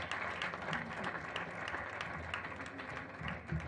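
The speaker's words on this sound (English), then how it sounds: "Please another round of applause." Audience applauding at a lecture on governance and development in Africa, a continuous, moderately distant clatter of many hands with occasional sharper claps standing out.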